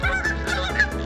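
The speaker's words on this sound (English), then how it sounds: "Noisy bloody geese." Geese honk loudly and close by at a winter carp fishing lake, several quick nasal calls in rapid, overlapping succession with no talking.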